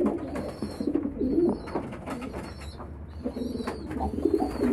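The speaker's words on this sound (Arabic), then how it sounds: "ما شاء الله الحمام سعيد، نفسه يستحمى بالحماية دي" Pigeons coo repeatedly at close range while bathing in a disinfecting bath for insects, with soft splashing and a few brief chirps around the low rolling calls.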